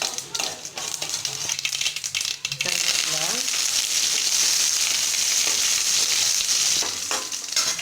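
Lentils dropped into hot oil burst into a loud, dense sizzle that swells after a few seconds of quieter clattering, then holds a steady bright crackle close by.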